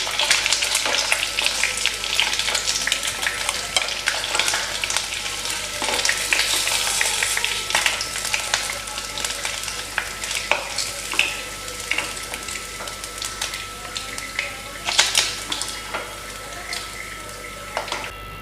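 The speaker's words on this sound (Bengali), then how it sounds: "হয়ে গেছে মাছ ভাজা" Pieces of rui fish sizzle steadily in hot oil in a home kitchen pan, a dense crackling hiss running throughout with occasional brief sharper spatters near the end, no voices over it.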